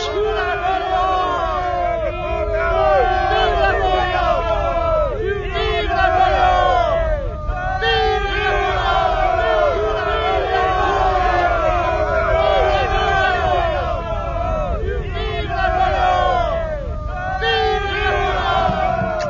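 A large crowd of soldiers cheers and shouts in rhythmic waves, loud and continuous, many voices swelling and falling together over a dense babble.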